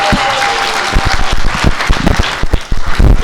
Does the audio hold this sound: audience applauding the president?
yes